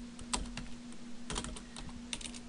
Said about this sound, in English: I imagine my keyboard typing will be very loud as well.